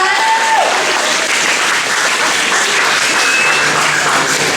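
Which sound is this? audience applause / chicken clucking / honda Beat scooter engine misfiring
audience applause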